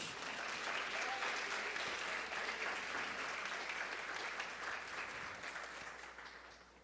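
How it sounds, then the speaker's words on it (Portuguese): Steady applause from a church congregation during a sermon, a dense wash of clapping heard from a distance and fairly faint, tapering off toward the end. "Quem crê nisso, aplauda o Senhor Jesus."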